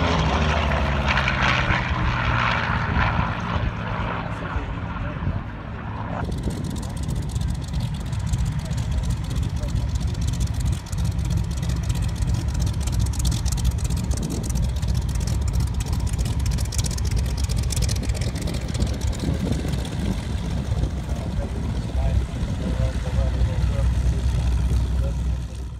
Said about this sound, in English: The Bristol Blenheim starting up its engines. Ready for its flight.